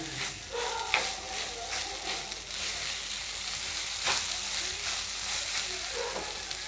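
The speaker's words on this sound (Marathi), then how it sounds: "खिचडी परतून घ्यायची अशी चांगली" Sabudana khichdi with grated potato is stirred and sautéed in a pan, making a soft continuous sizzle and fry with occasional light scraping, with no talk over it.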